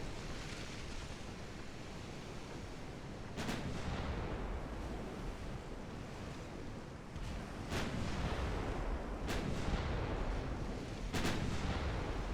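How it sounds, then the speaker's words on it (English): Torpedo detonations in an 1895-era naval warfare game, a few sharp booming bursts spaced several seconds apart over a steady roar of sea and wind, with no talking. "Ooh, torpedo detonation."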